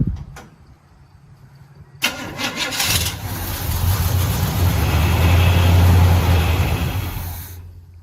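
After a quiet start, the old engine of a 1972 Chevy Cheyenne C20 truck, unstarted for 16 years, cranks and sputters to life, then roars loudly with a rough, revving idle before cutting off abruptly.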